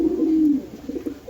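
Pigeons cooing close by at a pigeon sale: one drawn-out low coo followed by a few shorter, softer coos.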